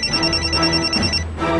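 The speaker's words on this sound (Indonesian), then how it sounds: "Alhamdulillah ini Bintang telepon." A mobile phone rings with an incoming call, a steady electronic ringtone with sustained tones repeating clearly and close by for most of the moment before cutting off near the end.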